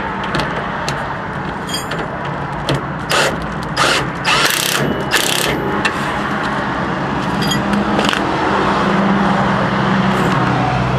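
A ratchet with an 18mm socket tightening the idler arm nut on a 1995 Dodge Ram 3500 5.9L, several quick clicking bursts close by, set against a constant road and traffic rumble.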